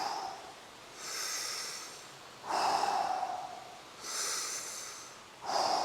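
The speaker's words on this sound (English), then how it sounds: "Put a hand on your belly and just take some breaths into your belly." Slow, deep belly breaths alternate between inhale and exhale in long, even waves of airy breath noise, close and clear with no talking.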